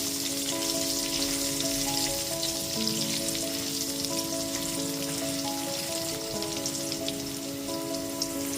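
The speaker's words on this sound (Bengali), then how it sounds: "গ্যাসের ফ্লেমটা মিডিয়ামে করে আলুটাকে এখানে ভেজে নিয়েছি।" Potato pieces seasoned with turmeric and salt fry in oil in a pan over a medium gas flame, giving a steady, dense sizzle throughout with a low hum underneath and no talk.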